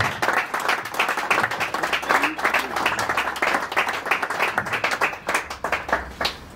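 An audience gives sustained, dense applause for the Leopards football team after their win over Sudan, steady clapping filling the whole stretch with a few louder bursts and faint voices mixed in.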